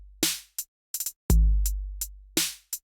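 A GarageBand rap drum pattern with a ternary hi-hat division, with triplet hi-hat clusters between a booming deep kick and crisp snare hits, played alone, close and moderately loud.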